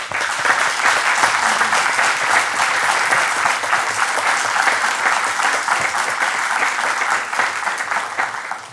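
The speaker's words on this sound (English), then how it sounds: "I'd like to give you a round of applause for your good work." A room of people at a Kyle city council meeting applauds an Eagle Scout for his community service project, loud, dense clapping sustained evenly and fading slightly at the end.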